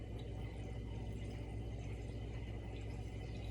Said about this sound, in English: do you guys see it bubbling?